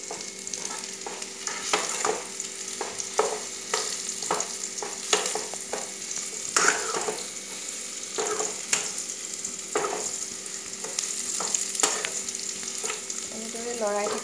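A sweet pickle mixture frying on a low flame while being stirred, continuous soft sizzle punctuated by regular scraping strokes of a spoon against the pan, close and without talk.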